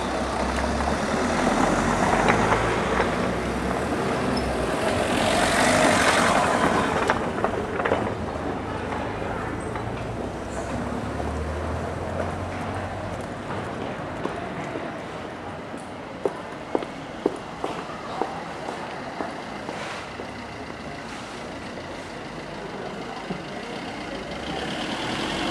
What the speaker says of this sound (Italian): Sente il rumore del movimento delle mattonelle quando passano le auto.